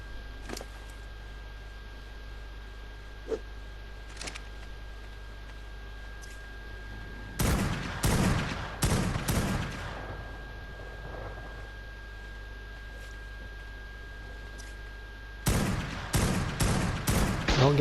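Automated turret gunfire in the video game Ark Survival Evolved, two loud bursts of rapid repeated shots separated by a long stretch of near quiet with faint isolated pops, the second burst starting near the end.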